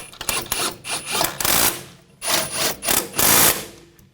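Ratcheting bursts from tightening the caliper bracket bolts on the front brakes of a 2000-2006 BMW X5, a series of rapid clicking runs broken by short pauses, close and fairly loud.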